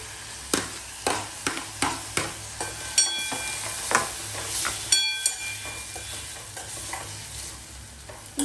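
Chopped tomatoes cook in a pan while being stirred, a steady sizzle broken by repeated spoon scrapes and taps against the pan, close and fairly loud.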